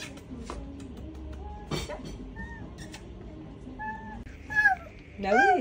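A domestic cat meows a few times in short rising and falling calls, close by, while people talk quietly around it in a home.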